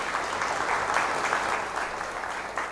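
A television studio audience applauds on a special China Night broadcast set: dense, steady clapping from many hands, fairly loud and close, running evenly for a few seconds without talk.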